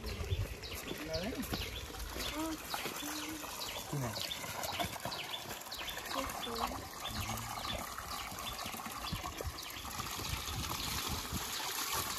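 Water flowing from a spout at a roadside tap at a place called Katare, a faint steady trickle under background voices, with birds chirping nearby.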